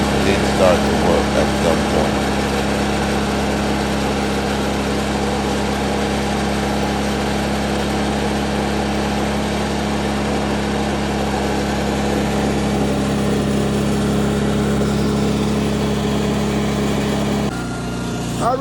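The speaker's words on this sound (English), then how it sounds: "The pump is pumping." A Ryobi water pump runs steadily with a continuous droning engine hum, loud and close for the whole stretch, changing tone slightly near the end.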